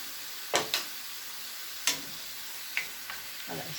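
Minced meat and vegetables seasoned with salt, pepper and paprika are stirred in a pan over medium heat. A steady sizzle runs throughout, broken by a few sharp spoon scrapes and knocks against the pan, with no talking.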